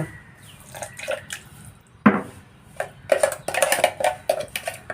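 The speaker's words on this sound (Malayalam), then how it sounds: "ഇനി കുറച്ച് വെള്ളമൊഴിച്ചിട്ട് ഒന്നും കൂടി അടിച്ചെടുക്കാം" Water splashes and trickles into a mixer jar in short, uneven pours and drips, close by and without speech.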